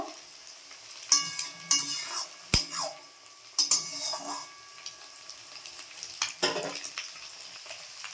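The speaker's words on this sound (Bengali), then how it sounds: "তো ডিমটাকে আমি একটু ভাজা ভাজা করে নেব।" Egg for a home-style chicken chowmein fries in a pan with a soft sizzle, broken by several sharp clanks and scrapes of a utensil against the pan at irregular intervals.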